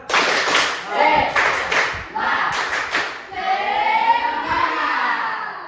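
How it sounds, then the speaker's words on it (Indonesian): Junior high students in a PE volleyball class clap a quick rhythmic spirit pattern in bursts that speed up, loud and close, with voices mixed in between the claps. "Lebih cepat. Tepuk semangat."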